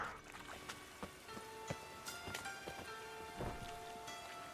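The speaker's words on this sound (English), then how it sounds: "And it's raining again." Steady rain in the video game Witcher 3 patters and hisses across surfaces, with scattered louder drips and thuds throughout, heard alone without talk.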